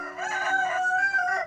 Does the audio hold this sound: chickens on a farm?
yes